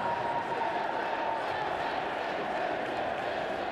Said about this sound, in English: Maybe it was just the crowd got excited.